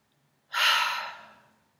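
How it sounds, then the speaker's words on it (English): A single deep breath during a breathing exercise, rising suddenly into a close, airy exhale that fades away slowly, alone against near silence. "So deep breath in through your crown chakra, into your heart, into your womb space, and exhaling."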